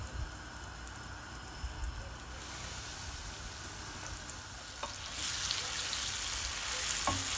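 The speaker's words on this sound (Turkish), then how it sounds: "Tavaya döküyoruz. Un attım, yağımı denedim. Isınmış ve ciğerlerimi atıyorum." Beef liver pieces dropped into hot floured oil in a pan give a steady, close frying sizzle that swells louder partway through, with faint stirring clicks and no talking.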